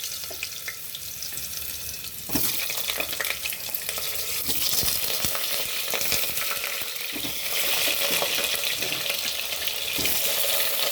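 Potato pieces fry in hot spiced oil in a pan with meat, giving a steady dense sizzle and crackle broken by occasional stirring scrapes, close and even throughout.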